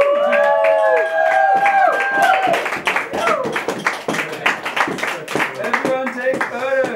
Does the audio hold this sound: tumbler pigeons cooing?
no